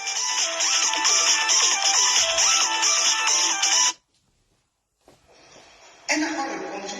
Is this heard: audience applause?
no